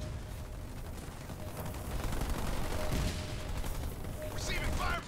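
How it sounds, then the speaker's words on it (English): Ground troops exchange gunfire in the real-time strategy game Halo Wars 2, a dense, continuous crackle of weapons fire that fills the whole stretch at steady loudness, with a faint announcer-like voice mixed in. "Receiving fire from ground troops."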